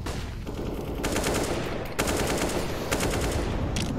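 Rapid gunfire and a grenade blast in a CS:GO match on the Vertigo map, a dense continuous barrage of automatic shots with bursts layered on top, loud and busy throughout.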